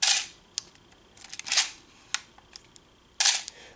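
The mechanical shutter of a film SLR camera, a Minolta XD-11 or Canon A-1, fires about three times, sharp and close, each a crisp clunky snap with small clicks of handling between them.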